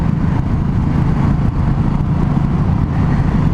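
A Honda CB250RS motorcycle rides a narrow country road on a cold day, its engine droning loud and steady with constant wind rush, no voices over it.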